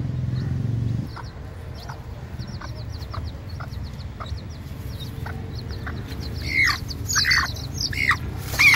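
A speckled hen guarding her four chicks gives repeated short, scratchy clucks that build into louder, harsher squawks near the end, over steady outdoor background noise.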